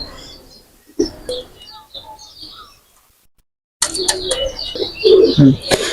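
Pakistani pigeons in a loft making scattered chirps and low coos at close range, going briefly silent before a louder burst of fluttering calls and cooing.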